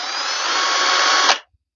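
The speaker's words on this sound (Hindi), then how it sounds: "यहाँ पर ड्रिल मशीन क्या है, उसको टच कर रही है, छोड़ रही है, लेकिन इसके अंदर काफी स्पीड है" An electric drill machine spins at high speed with a loud, steady whine that holds evenly and then cuts off abruptly as it winds down.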